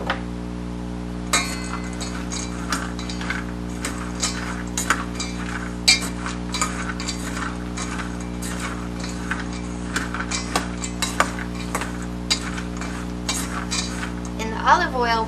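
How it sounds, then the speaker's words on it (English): Metal spoon stirring snack mix coated in olive oil in a bowl for holiday snacks, giving repeated light clinks and scrapes at an uneven rhythm, close and fairly quiet over a steady low hum. "I'll use a spoon to kind of stir them all so everything gets coated"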